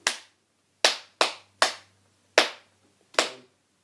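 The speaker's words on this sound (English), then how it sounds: "if we clap that rhythm together" Hands clap a strumming rhythm in an acoustic guitar lesson, six sharp, close claps in an uneven pattern with short gaps, dry and loud against silence.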